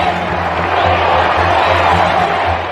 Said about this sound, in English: the crowd were waiting for the kiss